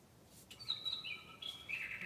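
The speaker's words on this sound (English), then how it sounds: "I hear you, bird." A bird chirps outdoors behind the scene, a few thin, high whistled notes and short sliding tweets, faint and somewhat distant over quiet background hiss.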